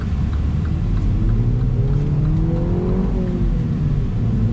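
A 2019 Mini Cooper S engine pulls hard at full throttle, a loud steady rumble with rising engine tone as the car accelerates, heard from inside the cabin.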